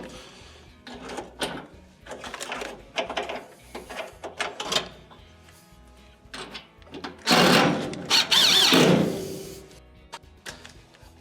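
A Phillips screwdriver drives mounting screws into a GE dryer during blower wheel repair, producing clicks and rattling metal handling, then a louder burst of whirring driver noise near the end, close by with no speech.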